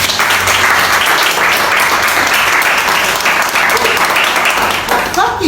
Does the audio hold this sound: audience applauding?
yes